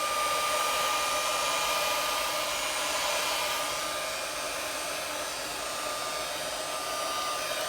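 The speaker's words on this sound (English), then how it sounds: "I'm gonna give it a quick blast with my heat gun here." A heat gun blows steadily over a blue and white resin flower coaster, a continuous airy whoosh with a thin whine that holds nearly level throughout and eases slightly midway. No speech.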